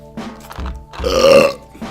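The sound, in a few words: burp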